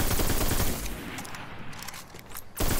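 Hard Light exotic auto rifle from the video game Destiny firing a rapid, dense burst of laser-like shots, loud and continuous, then a pause and a short renewed burst at the end.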